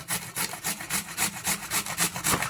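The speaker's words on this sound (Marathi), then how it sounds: "तर हा अर्धा बीट मी ते किसून घेते आता याच्यामध्येच।" Half a beetroot is rubbed against a grater in a steady back-and-forth rhythm, about a dozen close, dry rasping strokes with no talking.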